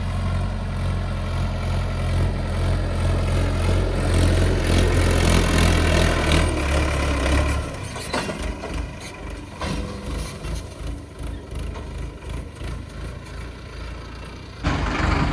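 A farm tractor pulling out of a field, its engine droning loudly and steadily up close, then easing into a rougher rumbling run with rattles and clanks as it moves off.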